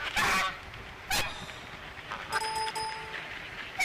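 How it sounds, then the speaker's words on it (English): A goose at a ranch gives a few loud, nasal honks in irregular bursts, close and clear, with a faint tonal electronic chime partway through. "Mrs. Goose arrives."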